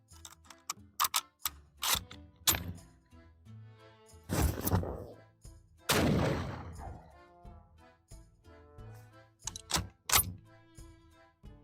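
A Mosin Nagant rifle fires 7.62x54R rounds at four lined-up cans outdoors: two loud, sharp shots with brief rumbling tails, several seconds apart, amid clicks and handling noises and intermittent talking.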